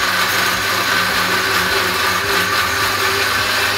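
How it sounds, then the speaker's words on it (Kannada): A mixer grinder runs steadily, grinding spices for a gravy, a loud, continuous whirring motor drone with no pauses. "ಮಸಾಲೆಗಳನ್ನ ಇದಕ್ಕೆ ಹಾಕೊಂಡು ರುಬ್ಕೊಂಡ್ಬಿಡ್ತೀನಿ"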